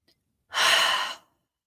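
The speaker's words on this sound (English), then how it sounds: "Take one deep breath." One deep breath taken during a guided reflection: a single long, airy exhale close to the microphone, rising quickly and fading out after under a second, with silence around it.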